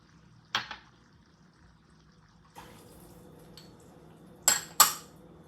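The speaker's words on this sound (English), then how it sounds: "I'm going to add about 1/2 cup of water." Half a cup of water is poured into a pot of littleneck clams while cooking, with a soft splashing fill between sharp metallic clinks of the pot and utensils.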